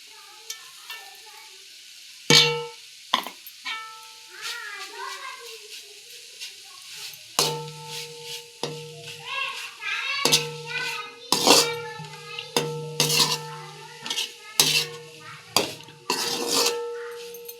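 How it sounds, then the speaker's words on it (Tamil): Grated coconut being stirred into broad beans frying in a pan with garlic, giving a steady sizzle with repeated spoon scrapes and clinks against the pan. A few faint background sounds come through. "இப்போது தேங்காய் பூ போட்டுக்கலாம்."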